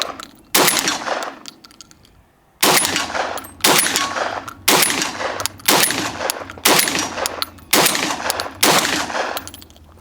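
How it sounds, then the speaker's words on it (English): A Benelli M4 12-gauge shotgun fires double-aught buckshot outdoors, eight loud booming blasts about a second apart after a short pause, each with a brief ringing tail. "I'm shooting Lambro buckshot, 12 gauge buckshot, double aught."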